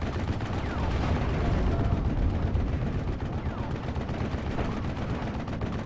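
Dense battle gunfire in Steel Division 44, a World War II strategy game, with Sherman Jumbo tank fire among continuous rattling shots and booms, loud and unbroken throughout while someone talks over it.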